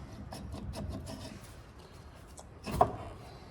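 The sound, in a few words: scrubbing truck hub mating surface with Scotch-Brite pad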